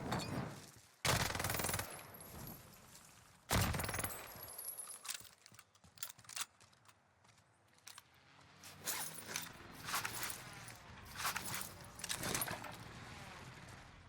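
Automatic gunfire bursts from a Warzone battle royale match, several sharp loud volleys in the first seconds followed by scattered shots and quieter game ambience.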